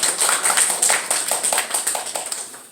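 A church congregation applauds a returning deacon with a brisk run of close claps that gradually thin and fade over a few seconds, with no voices.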